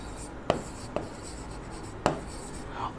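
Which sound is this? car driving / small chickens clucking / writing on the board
writing on the board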